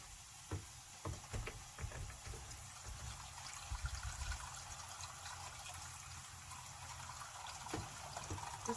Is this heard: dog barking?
no